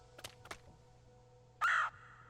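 A bird caws in the video game Celeste, a short loud burst following two fainter earlier calls over steady background game music.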